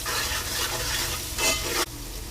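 Onions frying in a pan with turmeric, chili powder, salt and fresh-pounded ginger-garlic paste, loud steady sizzle with scraping stirs, a brief hiss swell near the end before it settles.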